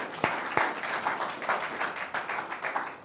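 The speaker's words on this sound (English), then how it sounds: "Let me give them a round of applause" Audience applause during a lecture on the coral crisis, with a few sharp, close claps at the start and then a steady, moderately loud patter of clapping that continues to the end.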